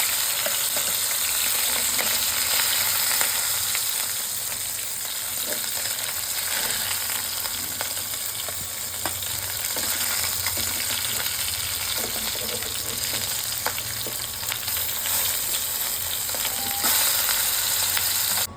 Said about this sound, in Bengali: মাছ ভাজা তেলের মধ্যেই পেঁয়াজ, রসুন, কাঁচামরিচটা দিয়ে দিলাম। এটা একটু ভেজে নিব।